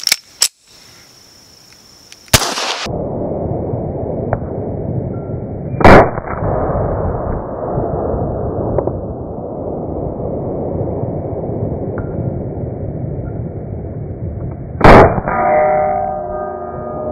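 A Grand Power pistol firing outdoors, with a few loud, sharp single shots spaced seconds apart, each followed by a long rumbling echo that trails off.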